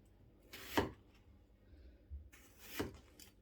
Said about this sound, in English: So the trick is cut like this, so the knife doesn't go all the way, and I keep doing it in the whole onion.